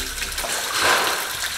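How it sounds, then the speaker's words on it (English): Floodwater gushes into a house basement in a continuous close, splashing pour that briefly swells louder midway. "We still got lots of water coming in."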